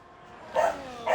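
A pet dog gives two sharp barks nearby, the second one cut off at the end.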